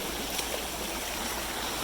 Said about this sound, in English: I see water flowing in here.